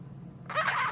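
A pet bird gives a single short, raspy squawk up close, loud against a quiet room hum.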